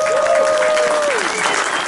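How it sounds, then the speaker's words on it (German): Audience applause at a YouTube creator event in Berlin, a dense steady clapping that fills the whole moment at close range, with a faint voice trailing through it. "Applaus!"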